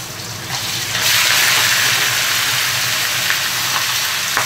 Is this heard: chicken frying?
yes